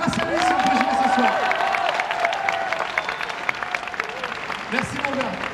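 Audience applauding and cheering before a stage at Japan Expo, a dense, loud wash of clapping and crowd noise, with a voice speaking over it throughout.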